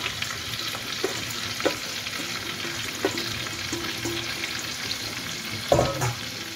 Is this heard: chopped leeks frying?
yes